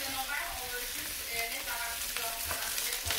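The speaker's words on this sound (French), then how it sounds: "faire griller vos légumes" Vegetables fry in vegetable oil over high heat for a tonkotsu ramen broth, a dense, even sizzle with scattered pops and crackles, close and alone.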